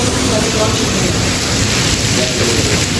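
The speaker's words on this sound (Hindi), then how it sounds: "अब ये बारिश हो रही" Steady, dense storm rain pours down with a constant hiss, loud and close, filling the whole stretch without pause.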